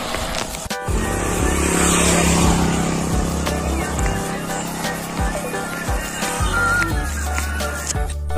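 Motorbikes and other vehicles passing on a road at night, engines rising and fading as they go by at close range, with a continuous low engine hum and occasional scraping rattles.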